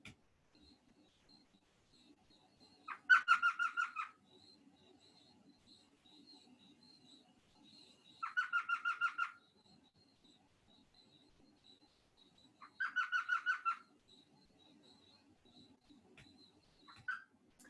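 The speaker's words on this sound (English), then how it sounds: "I suspect that they heard this elf owl all night long because there was a pair of them" An elf owl gives three separate bursts of rapid, chattering high-pitched notes, each about a second long and spaced several seconds apart, against a very quiet night background.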